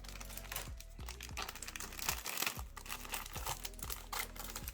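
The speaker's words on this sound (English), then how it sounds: "I'm gonna start with this wrapper first right here. So I'm gonna cut it open." Crinkly plastic spring roll wrapper package being cut open, a steady run of crackling and rustling handling noises with short snipping bursts, close and fairly quiet, no talking.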